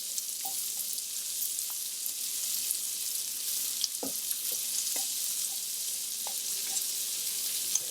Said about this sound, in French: On va bien faire revenir les oignons.